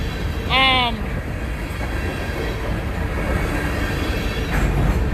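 A train rumbles steadily past at close range, a brief high horn-like whistle early on, with a low continuous roar throughout.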